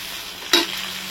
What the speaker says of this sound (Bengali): আমার যে ম্যারিনেট করা চিকেন আছে ওগুলো দিয়ে দেবো। একসঙ্গে সব ভাজা ভাজা হবে